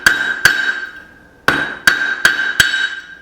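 Hammer forging metal on the corner of an anvil: six sharp, bright ringing strikes close by in an uneven rhythm, each leaving a sustained metallic ring that decays between blows.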